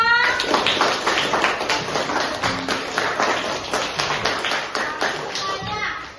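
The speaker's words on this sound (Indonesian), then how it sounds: "Tepuk tangan untuk kita semua." Scattered clapping from a group of children in a classroom with lively voices mixed in, steady throughout and fairly close.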